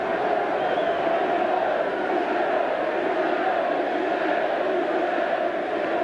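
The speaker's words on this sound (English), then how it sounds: "The crowd seem to be wanting Mark Hughes on, Alan. They're shouting for Hughes" A football stadium crowd at a Manchester United match roars and chants for Mark Hughes, a dense, continuous wash of massed voices at a steady, moderately loud level from a distance.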